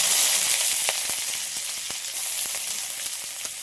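Bay leaves and five-spice seeds fry in hot mustard oil, giving a continuous close, bright sizzle with scattered crackles and pops, steady throughout.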